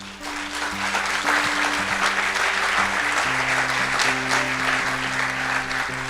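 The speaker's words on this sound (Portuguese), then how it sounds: "Você pode aplaudir a Ele?" A church congregation claps in loud, sustained applause while sustained keyboard or organ chords play underneath.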